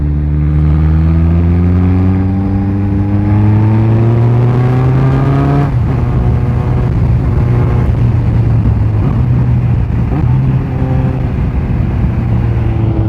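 Kawasaki motorcycle engine, a Z900 or ZX-6R, revving hard and rising in pitch, then blipped sharply during a rev-matched gear change, loud and close with a steady high engine drone throughout.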